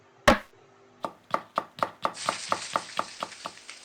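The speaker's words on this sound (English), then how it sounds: "If you could cut them into some smaller pieces" Knife on a cutting board slicing bacon into small pieces: one sharp initial knock, then a steady run of about a dozen close, evenly spaced chops.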